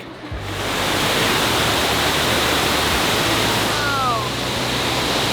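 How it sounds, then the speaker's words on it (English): Loud, steady roar of a waterfall crashing down nearby in the Balkans, a dense continuous wash of noise that barely changes throughout. "Oh boy, you hear the power of the water."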